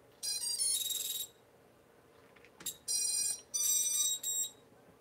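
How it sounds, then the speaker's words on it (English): A small buzzer on a racing drone's smoke stopper sounds in shrill, tinny electronic bursts, two long tones, a brief chirp, then two more tones, over a low room hum. "that's a buzzer right on there"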